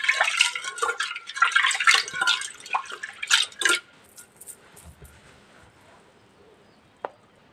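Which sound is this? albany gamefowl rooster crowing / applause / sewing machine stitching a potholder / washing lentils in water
washing lentils in water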